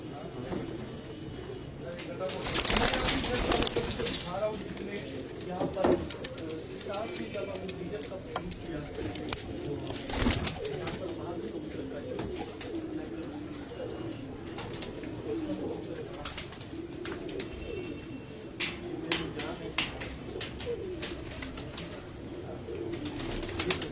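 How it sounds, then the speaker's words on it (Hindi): Sindhi pigeons cooing on a rooftop loft, soft repeated coos under ongoing nearby conversation with some handling noises and occasional bursts of louder activity. "सिंधी कबूतर का शौक करवा रहे हैं आप"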